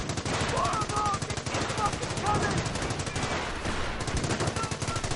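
Rapid, sustained machine gun bursts rattle continuously in a first-person shooter match, punctuated by other gunfire, with a commentator's voice running over the shooting.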